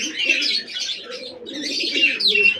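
Pigeons in a breeding loft coo steadily and close by, with soft low rolling calls overlapping bright chirpy notes in a continuous chorus.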